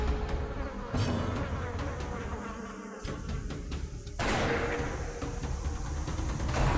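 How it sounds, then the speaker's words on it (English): Mosquitoes buzzing in the Darkest Dungeon video game, a dense, steady insect drone with layered whining wings, loud and continuous, briefly dipping and swelling again under game ambience. "Dang mosquitoes."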